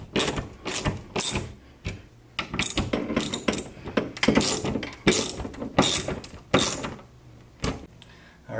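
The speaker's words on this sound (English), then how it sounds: "And then tighten the two bottom screws." Screws being tightened on a TV wall mount plate, heard as close ratcheting clicks and mechanical turning bursts in an irregular rhythm with short pauses between.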